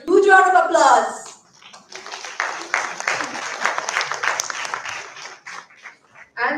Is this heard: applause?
yes